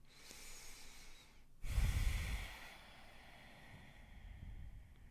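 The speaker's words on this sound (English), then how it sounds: "Take another deep breath" Deep breathing during a yoga flow: a sharp, strong inhale through the nose followed by a long, soft exhale, close and quiet with no talk.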